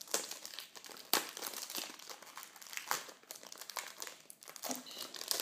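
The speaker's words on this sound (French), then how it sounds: "il est bien emballé, donc je vais l'ouvrir pour vous." Plastic film wrapping a boxed designer perfume crinkles and crumples continuously as it is torn open and pulled off, close and fairly loud, with sharp tearing bursts.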